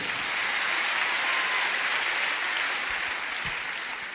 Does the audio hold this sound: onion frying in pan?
no